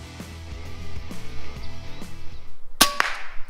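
An FX Panthera PCP airgun fires a 26-grain slug with one sharp, loud crack, followed by a ringing tail.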